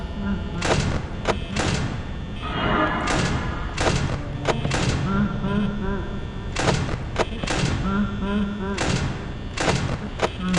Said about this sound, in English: always banging on my door every half second